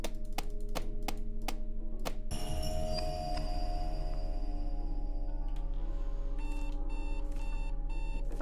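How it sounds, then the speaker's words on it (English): Alarm clock ringing inside the horror video game Worse Than Death, a few sharp taps giving way to a steady electronic tone with layered beeping pulses over a constant low game hum. "we'll be setting the alarm clock to 1:35"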